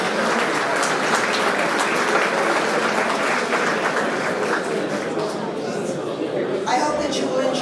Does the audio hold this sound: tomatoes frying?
no